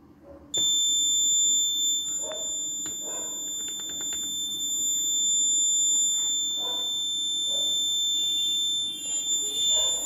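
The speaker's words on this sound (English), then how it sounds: "Temperature alert, methane gas alert, MQ7 alert, and the humidity alert." Smart helmet safety alarm for coal mine monitoring, signalling temperature, methane gas and carbon monoxide alerts: a steady, loud electronic alarm tone sounds continuously for about ten seconds, with faint background noise.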